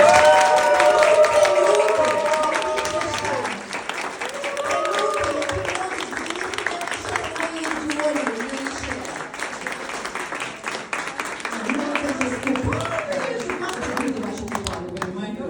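An event audience applauds in a steady, dense patter of many hands. Music and a voice sound over the clapping throughout.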